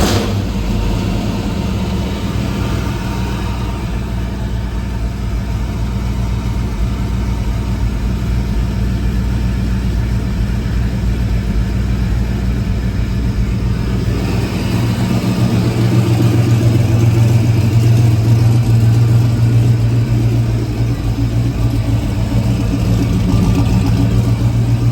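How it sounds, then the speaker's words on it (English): An LS-swapped K5 Blazer Chalet V8 with ACES EFI runs steadily at a close, loud idle after its first fire-up, the low engine rumble holding even and swelling slightly louder toward the end. "I think we're ready to start this thing up for the first time."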